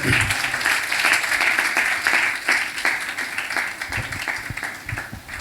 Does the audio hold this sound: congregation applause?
yes